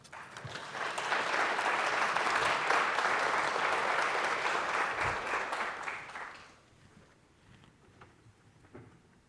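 An audience applauds to welcome a speaker to a talk on the future of data collection, with steady, full clapping from a room of listeners that fades out after about six seconds into quiet room noise.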